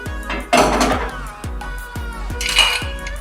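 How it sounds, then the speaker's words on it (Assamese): Metal pressure cooker lid set and locked onto the pot in a home kitchen, with a series of clanks and scrapes of metal on metal, close and fairly loud, several distinct knocks spaced through. "এতিয়া মই কুকাৰৰ ঢাকনিখন লগাই 4-5টা মান সিটি মাৰিবলৈ দিম"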